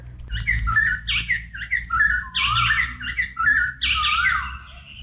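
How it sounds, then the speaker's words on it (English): Birds in Thailand calling near an almost abandoned village, loud squawking and chirping phrases repeating close by over a low rumbling background. "The birds sound so different, don't they?"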